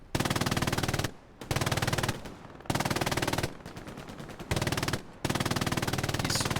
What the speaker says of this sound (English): Larry comes up with a machine gun